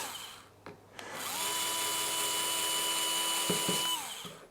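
An electric screwdriver whirs steadily for a few seconds as it backs out screws from an Exway X1 Pro electric skateboard, close and alone, preceded and followed by brief clicks and handling knocks.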